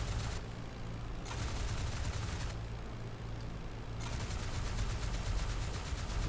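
A WWI fighter plane's machine guns fire in IL-2 Great Battles, rattling in three long rapid bursts with short pauses between them, over a steady engine drone.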